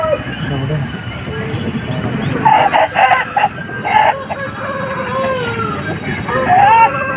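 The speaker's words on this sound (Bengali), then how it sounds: "আর এই যে মোরগটা আপনারা দেখতে পাচ্ছেন" At a busy village chicken market, roosters crow loudly several times over a murmur of crowd voices and clucking fowl, with people talking nearby throughout.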